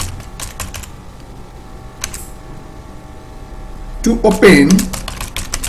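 Code is typed on a computer keyboard in scattered bursts of sharp key clicks, quiet at first and then a denser cluster near the end, with a person speaking briefly over the typing.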